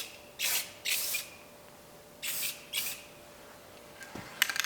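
An aerosol can sprays tint onto the edges of a tail light on a Ford F100 Dentside pickup in four short hissing bursts, two pairs spaced apart, with faint handling noise at the end.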